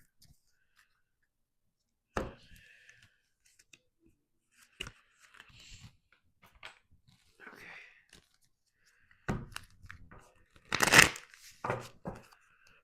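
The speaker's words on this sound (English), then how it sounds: "I'm trying to shuffle the cards like I used to." Tarot cards are shuffled by hand in short, scattered bursts of quiet riffling and slapping, separated by near silence.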